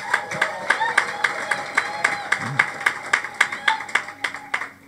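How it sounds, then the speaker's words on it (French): Church congregation at a communion service clapping in rhythm, sharp regular hand claps repeating steadily and growing more distinct toward the end, with a faint voice underneath. "Applaudissez"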